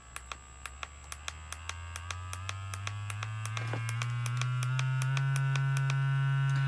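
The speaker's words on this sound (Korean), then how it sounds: "진동 소리 들리세요?" Electric facial cleansing massage device vibrating with a steady buzz and evenly spaced clicks, the drone rising in pitch and intensity partway through as the level steps up, close and fairly quiet.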